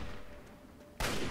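Enemy gunfire in Fallout 3, a short loud burst of shots after a quieter stretch of faint game ambience.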